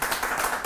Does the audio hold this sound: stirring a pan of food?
no